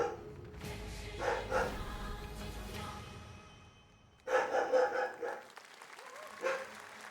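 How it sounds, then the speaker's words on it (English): Several dogs bark at home in two clustered bursts, one early and one louder later, with quieter stretches of background sound between them. "my dogs are barking at something"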